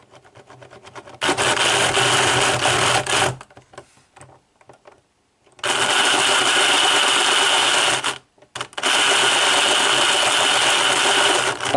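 A Mehano Southern Pacific Daylight model train's running gear whirs in bursts, a buzzy mechanical hum with clicking, heard close up and stopping twice between runs.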